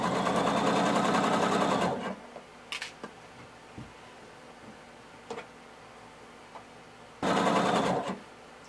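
Home sewing machine stitching and backstitching a blazer seam, two bursts of rapid even needle chatter separated by a quiet pause with small handling clicks, close and alone.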